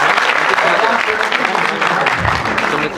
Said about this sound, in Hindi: तालियां आपकी चाहिए।